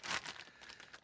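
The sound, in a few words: handling crinkling plastic bag of Taurus TX22 pistol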